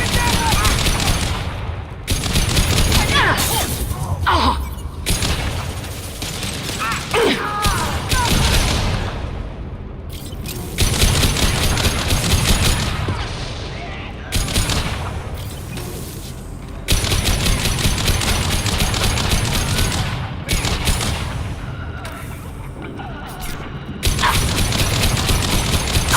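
Mass Effect 2 combat: loud, dense bursts of sci-fi gunfire and explosions come in waves with brief lulls, booming blasts mixed with rapid weapon fire and shattering debris, and voices shout over the chaos.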